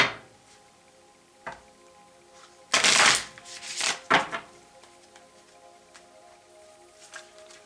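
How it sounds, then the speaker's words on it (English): A deck of tarot cards is shuffled close up, a quick riffling burst followed by a few tapping, squaring sounds against a quiet background. "One more shuffle."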